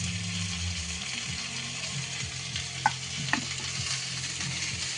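Onion shoots sizzle in a frying pan while being stirred, with a low scraping churn beneath the hiss and two sharp utensil clicks against the pan near the middle.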